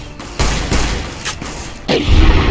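Gunfire in Fallout: New Vegas, a rapid volley of loud, heavy shots booming close by in quick succession.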